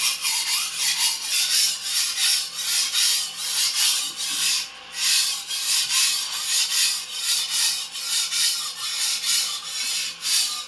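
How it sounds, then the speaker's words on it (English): Antique Dufresne and Co. chef knife drawn rhythmically across a whetstone, close and loud rasping strokes repeating at a brisk even pace with one brief pause midway, no talk. "let's pick up the speed a little bit now that we've had introduction to knife on the whetstone motion"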